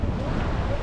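Ocean waves surge and break along a rocky shore where someone is light-tackle fishing with a rising tide, a continuous loud wash churned up by wind buffeting the microphone.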